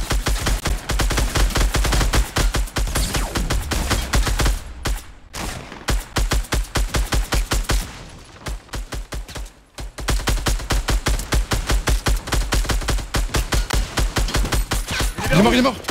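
Rapid automatic gunfire in the video game Fortnite, dense rhythmic bursts that run loud and close for most of the stretch, with a short sparser lull in the middle and light talk now and then.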